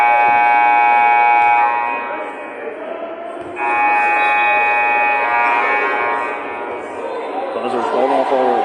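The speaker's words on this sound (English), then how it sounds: "Buzzers going off all over the place." Electronic buzzers blare at an indoor basketball game during a late timeout, two long loud harsh tones separated by a brief dip, with crowd chatter and voices underneath.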